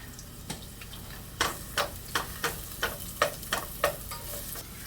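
Half an onion fries in a little hot oil in a pot, a low sizzle broken by a run of quick scraping stirs that come in a fairly even rhythm, close up and with no talking.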